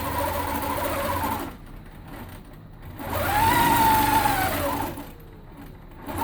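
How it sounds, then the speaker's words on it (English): A longarm quilting machine stitches along a ruler in bursts: a steady, rapid mechanical whir runs, pauses, then runs again louder with a rising-and-falling pitch, close and alone. "I'm not even having to turn the machine on and off between lines here."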